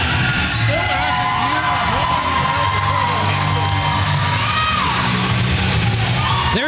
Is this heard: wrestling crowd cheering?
yes